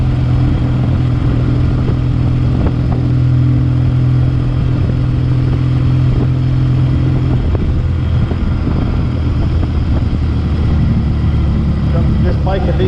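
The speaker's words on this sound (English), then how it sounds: "This bike can be hit or miss when you go to kickstart it." A vintage motorcycle engine runs steadily at idle throughout, loud and close with a low throbbing rumble and mechanical clatter, with a few sharper knocks and revs near the end.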